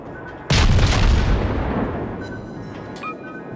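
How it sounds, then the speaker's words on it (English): A heavy naval gun salvo in World of Warships booms suddenly and loudly, then rumbles and fades slowly over several seconds, with a faint tone or two afterward. "I'm still firing my guns, doing as much damage as I can"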